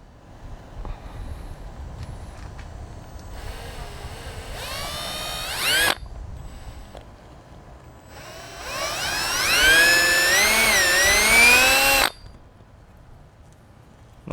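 A drill whines in two bursts, its pitch rising and shifting, while dimpling a motorcycle handlebar for grip set screws on a 2019 Harley-Davidson Road Glide Special, close and fairly loud, with quieter workshop noise between.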